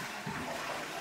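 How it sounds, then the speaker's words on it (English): Saniflo macerator toilet flushing, a steady close rush of water with a pumping whir throughout. "Like, you can flush them, they make a little bit of a noise."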